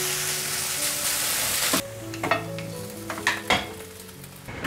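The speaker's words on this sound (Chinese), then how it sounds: "把所有调味料炒匀。" Seasonings, including white pepper, stir-fried in a wok: loud steady sizzling for the first couple of seconds, then quieter frying broken by several scraping, clanking strokes of a spatula, with faint steady tones in the background.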